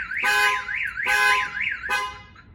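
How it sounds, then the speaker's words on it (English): A work truck's alarm system wails loudly and close, a rising-and-falling electronic siren broken by sharp repeated blasts, sounding alone. "So if that window shatters, the alarm system goes off."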